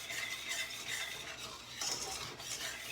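Homemade Kool-Aid play dough being stirred in a bowl, a steady close scraping and rubbing that keeps going without pause, with nobody talking.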